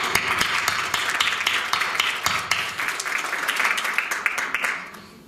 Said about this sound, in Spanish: Te vamos a dar un aplauso.